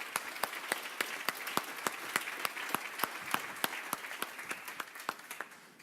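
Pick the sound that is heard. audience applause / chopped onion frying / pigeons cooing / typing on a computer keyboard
audience applause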